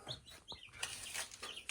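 Chickens clucking and chirping faintly at a poultry farm with newly hatched Australorp and Adler chicks, several short calls over quiet background.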